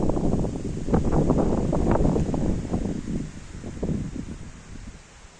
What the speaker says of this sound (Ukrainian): і вітер дуже